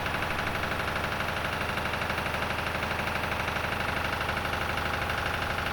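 A Lister emergency fire pump diesel engine runs steadily as it warms up, a loud, close, rapid knocking chug with an even rhythm and no voices.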